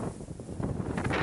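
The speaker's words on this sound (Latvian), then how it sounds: "Sānvējš no priekšas, no muguras visu laiku" Rough, gusty wind buffets the microphone with low rumbling thumps and hiss, rising and falling throughout.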